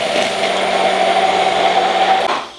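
An immersion blender whirs steadily and close while it mixes a chicken marinade for spicy fried chicken burgers. The motor holds a constant buzzing drone for the whole stretch and winds down just at the end.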